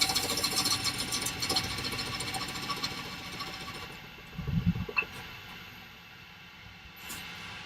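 A woodturning lathe makes a shear scrape cut: rough, hissing scraping is fairly loud at first, then thins and fades, with a brief low thump near the middle.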